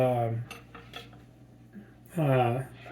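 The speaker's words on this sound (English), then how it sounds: "we can start putting the dishes that are dirty into the dishwasher" Dirty dishes being loaded into a dishwasher, with a few clinks of plates and cutlery rattling close by between quieter moments.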